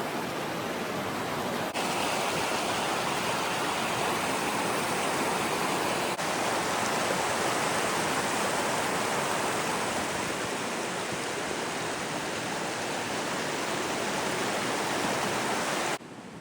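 Broad, steady rush of the Nahanni River flowing in Canada's Northwest Territories, loud and continuous like rapids, with no voices.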